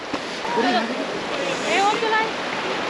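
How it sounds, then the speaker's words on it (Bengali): The Lachung River in North Sikkim roars steadily close by, with gusts of cold wind over it and a faint voice underneath. "লাচুং রিভারের সামনে চলে এসেছে প্রচণ্ড ঠান্ডা হাওয়া বইছে"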